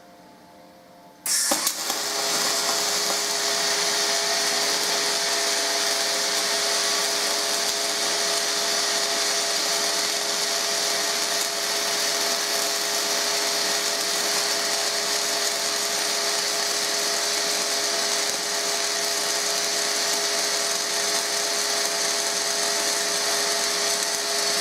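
Continuous loud crackling hiss of MIG flux-core arc welding with 0.035 Dual Shield wire on an HTP Pro Pulse 200 welder, starting abruptly and running steadily with a faint constant tone, no talking.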